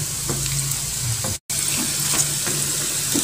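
Noodle snacks fry in hot oil in a wok with a steady, dense sizzle and faint stirring clinks, close and continuous apart from one brief cut.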